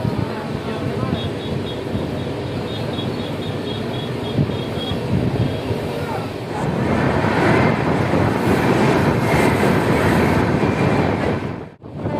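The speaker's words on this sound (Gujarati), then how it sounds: "સામેની સાઈડથી તમે ટ્રેન જોઈ રહ્યા છો જે ટ્રેન આવી રહી છે ફૂલ સ્પીડમાં" An oncoming train speeds past at full speed on the opposite track, heard from aboard the 22959 Intercity SF Express as a rushing roar over wind buffeting that swells midway, holds for several seconds, then drops off abruptly.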